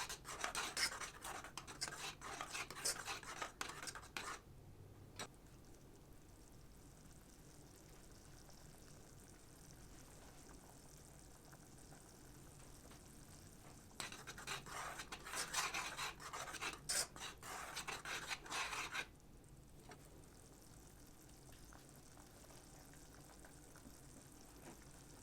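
A spoon stirs sweet and sour kadhi in a pot, producing bursts of rasping, scraping strokes at a steady rhythm that pause and resume, with quieter simmering between, no speech.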